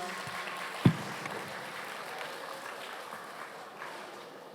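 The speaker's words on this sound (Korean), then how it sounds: "박수 부탁드리겠습니다" Applause from an audience of students and teachers after a school presentation at a Gyeongbuk question festival, fairly soft and steady, with one sharp knock near the start.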